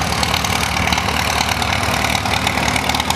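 The engine of a restored 350 utility tractor fitted with golf course tires idles at a show, a loud, steady, close rumble that holds for the whole stretch with no talking.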